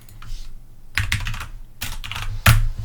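Keys clack on a computer keyboard as a command is typed, in a few close, loud bursts of rapid keystrokes separated by short pauses.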